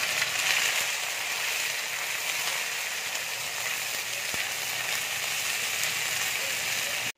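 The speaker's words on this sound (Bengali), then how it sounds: "এবার আমি ভিন্ডিটা দিয়ে দিচ্ছি।" Okra sizzling in a modest amount of oil after black cumin seeds, making a steady, even frying hiss that fills the whole stretch with no talk.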